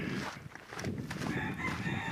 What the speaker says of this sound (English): Chickens are glad to see me. They're telling me they're there and they love me and whatever.